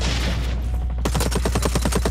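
Gunfire from a weapon in Blacklight Retribution, a brief noisy burst and then a quick, even string of shots at a steady rhythm, loud and close over a low game hum.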